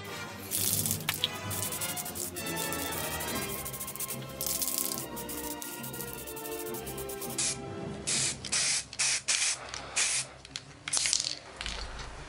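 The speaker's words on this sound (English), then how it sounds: "So I finished spraying with the primer" An aerosol can of primer hisses onto model parts in long bursts, then in a series of short, quick sprays, close and fairly loud, with light clatter between.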